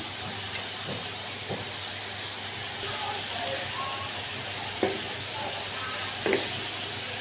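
Steady frying hiss of beef liver cooking with peppers in a pan, street-cart style, broken by a few faint clicks and scrapes of a utensil, with no talk over the sizzle.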